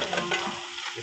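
Carrots, peas and potatoes stirred in a hot pan, a brief close sizzle with a couple of soft scraping strokes, heard alone.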